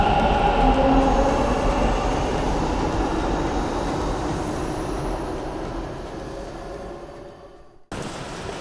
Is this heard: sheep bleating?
no